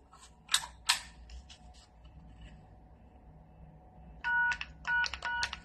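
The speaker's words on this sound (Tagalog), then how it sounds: "mayroon ng dial tone" A telephone handset on a newly installed DIY line extension gives short bursts of keypad and line tones, two brief clicks early on and then a steady pulsing tone pattern near the end, with quiet room hiss between.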